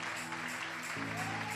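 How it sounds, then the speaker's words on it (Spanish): A church congregation claps for a young woman, a dense continuous round of applause with sustained tonal music or voices underneath, fairly close and steady throughout the short stretch. "Un aplauso fuerte"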